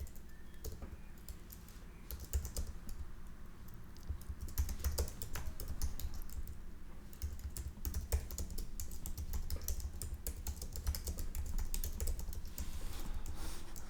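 Steady typing on a computer keyboard while entering text in Figma, with quiet, rapid, uneven key clicks that continue throughout.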